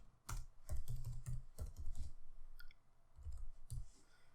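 A computer keyboard is typed on in short irregular bursts of close, quiet key clicks, with brief pauses between groups of keystrokes.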